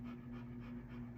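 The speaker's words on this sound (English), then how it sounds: "Oh, settle down, puppy. A heavy breather back there." A puppy pants heavily, close and steady, with quick rhythmic breaths under a low constant hum.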